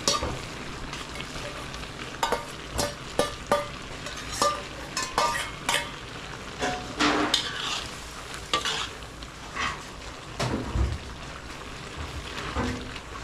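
Pork belly is stirred and fried in a pan, with irregular sharp clinks and scrapes of a utensil over a light sizzle, close and fairly loud, no talking.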